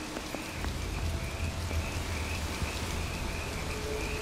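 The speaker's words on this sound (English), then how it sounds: "I hear frogs." Frogs croak among rain and ambient wildlife in the game Dishonored: Death of the Outsider, a steady wet backdrop of patter with faint repeated croaks, no talking.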